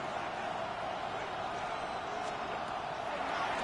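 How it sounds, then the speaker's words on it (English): Big NFL International Series stadium crowd on third down gives off a steady, distant wash of roaring noise, even and unbroken with no distinct cheers standing out. "This crowd into it now as we get to 3rd down."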